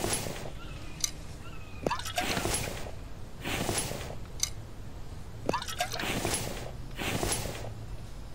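Water dripping and trickling in the survival game The Infected, a few separate bursts of pouring and splashing at a steady pace, fairly close and moderately loud, with no one talking.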